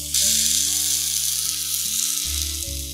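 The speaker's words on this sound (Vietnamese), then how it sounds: "mình sẽ dùng cây khò để mình đốt cái phần da ha" A blowtorch searing the skin of a pork hock, a loud, steady roaring hiss close by that starts abruptly and runs without a break, with a low droning hum underneath and no talking.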